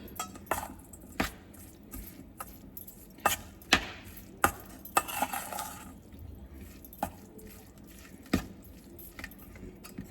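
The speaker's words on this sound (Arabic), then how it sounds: "ونخلط الخليط." Rice coated in oil being stirred together with tuna and corn, giving soft wet squishing and scraping with a few sharp spoon-against-bowl knocks scattered irregularly, close up and moderately quiet, with no talking.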